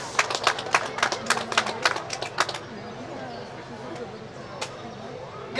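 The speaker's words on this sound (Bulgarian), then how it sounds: "Аплодисменти!" Applause at a Bulgarian village peach festival award ceremony, a short burst of sharp hand claps from a small crowd lasting a couple of seconds before fading into quiet room noise, with a voice speaking faintly.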